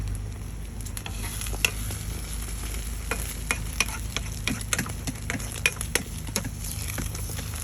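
Food frying in a pan over a gas burner outdoors at a scenic spot: a steady crackling sizzle with frequent clicks and scrapes of stirring scattered through, close and moderately quiet.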